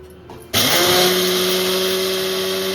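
A mixer grinder starts abruptly and runs at a loud, steady whine while coarsely grinding a semolina mixture, close up with no talk.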